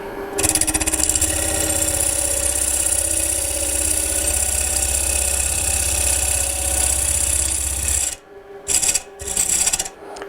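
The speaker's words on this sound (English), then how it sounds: "I've speeded the lathe up now to about approximately 1000 RPM." A woodturning lathe spins at roughly 1000 RPM with a steady, loud mechanical hum and a rasping cutting texture. The drone runs evenly for about eight seconds, then breaks into short bursts as the sound cuts in and out near the end.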